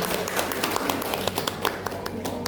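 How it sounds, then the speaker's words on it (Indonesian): An audience claps together in a hall, a steady dense patter of many hands held at an even level throughout. "Tepuk tangan dulu Bapak Ibu kita semua."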